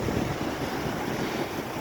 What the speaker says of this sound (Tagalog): medyo malakas ang hampas ng alon at napakalalim niyan